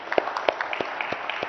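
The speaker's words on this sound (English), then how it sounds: "big round of applause." Scattered clapping from an awards ceremony audience, a handful of sharp separate claps over roughly a second and a half, fairly thin rather than a full roaring ovation.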